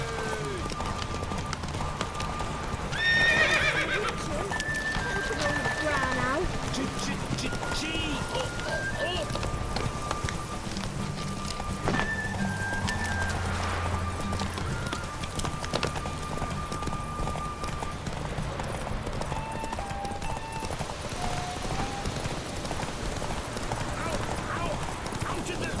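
Steady rhythmic hoofbeats of a galloping horse in The Witcher 3 run throughout over a constant background hum, with a voice speaking now and then.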